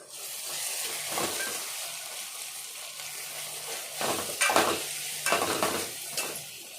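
Onions and ginger fry in a pot while being stirred, a low continuous sizzle overlaid with several close, clattering scrapes and knocks of a spoon against the pot toward the end.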